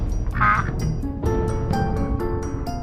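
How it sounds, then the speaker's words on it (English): A single nasal duck quack sounds early, followed by a scatter of softer clicks and croaky bursts in the background. "Some thought it was a type of duck."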